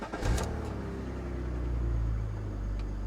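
Twenty-year-old sports car with 161,000 miles idling after being started, a steady low engine rumble with a brief rev near the start, close and continuous with no talking.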